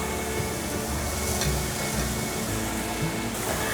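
King oyster mushrooms are stir-fried in a pan with softened enoki mushrooms for a vegan dish, giving a steady, close sizzle with scraping stirring noises and no speech.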